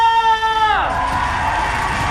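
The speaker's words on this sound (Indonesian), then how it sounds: "So, MPL Arena, perebutan top klasemen MPL, minta tepuk tangannya!" A live esports arena crowd at an MPL Mobile Legends match roars with cheering and applause. It swells suddenly after a brief tonal sound and then holds as a loud, steady wash of noise.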